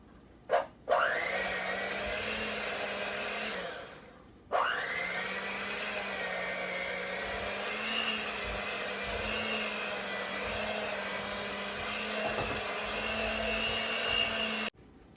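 An electric mixer whirs steadily through instant brownie mix with shortening, starting with a short burst, pausing briefly, then running at a loud, even pitch for about ten seconds before cutting off.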